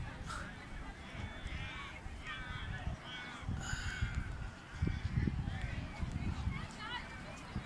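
Several seagull cries, thin and high, ring out over steady wind and low rumble outdoors at a scenic coastal stop in Anglesea on the Great Ocean Road, Victoria, Australia, with bursts of calling spread across the scene.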